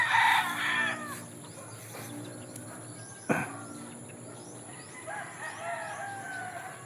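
Chickens on a small backyard farm in Sibulan, Negros Oriental: a rooster crows loudly at the start, followed by softer clucking and a second crow near the end over a steady background hum.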